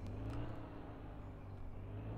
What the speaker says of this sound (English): I love the car noises on here